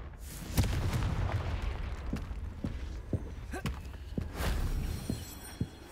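Confringo spell blasts in Hogwarts Legacy go off as several sharp booming bursts over a rumbling game background, with a voice speaking at times.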